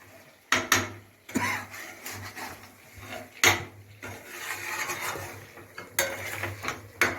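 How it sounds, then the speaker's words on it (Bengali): A lid set onto a cooking pot in a Bengali village kitchen as a curry cooks down, heard as a few separate metallic clanks and knocks spread across a quiet stretch with no voices. "আবার একটু ঢাকা দিয়ে দিই, একটু জল পড়বে।"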